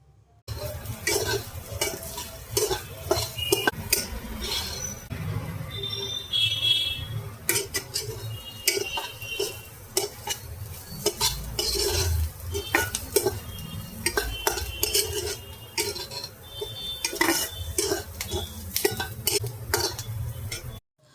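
Steady scraping and clinking of a spoon stirring curry in a metal pan, with a soft sizzle underneath, continuing throughout without talk.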